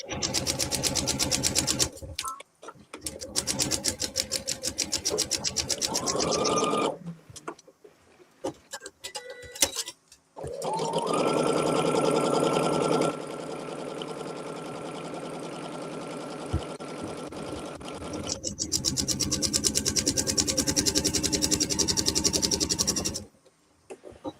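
Sewing machine stitching quilt block diagonals, a steady rapid mechanical chatter in several long runs of varying speed, with short pauses and handling clicks between seams.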